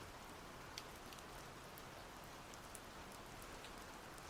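Steady, dense rain sound effect switched on during a livestream, a continuous hiss of falling drops with faint patters, holding at an even level throughout with no voices.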